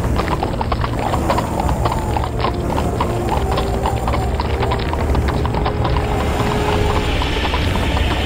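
Steady, dense clip-clop of horse hooves galloping at a fast, even rhythm fills the whole stretch, loud and continuous, with a faint mechanical rattle underneath.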